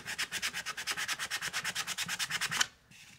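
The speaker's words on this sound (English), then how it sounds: "sand these inside. So I just like to get 100 grit" Wood edges on a phone amplifier sanded by hand with 100 grit sandpaper, about twenty-five even rasping back-and-forth strokes in a steady rhythm, close and clear, stopping abruptly near the end.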